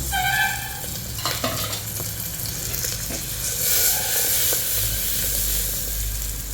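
Mutton fat sizzles and melts among fried onions in a hot pan, a steady close frying hiss with occasional stirring scrapes throughout.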